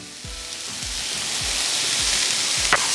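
Crushed paneer and masala frying in a pan as paneer bhurji is stirred, with a steady broadband sizzle and a soft scraping stroke roughly every half second, close and alone.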